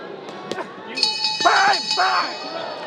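A boxing ring bell clangs and rings out amid a noisy arena crowd at the Araneta Coliseum in Manila, with a commentator's voice partly over it.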